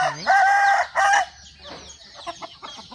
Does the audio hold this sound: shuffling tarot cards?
no